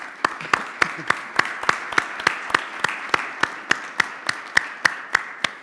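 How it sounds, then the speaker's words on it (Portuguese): Applause for the guests at an architecture debate in Portugal, with one sharp, close pair of hands clapping in a fast regular rhythm over softer, more distant clapping from the audience. "Eu queria que dessemos um aplauso aos nossos convidados."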